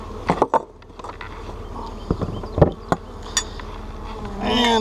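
Honey bees buzz around an opened laying-worker hive as vacuumed bees are added, a steady close insect drone with brief louder passes and a few soft knocks.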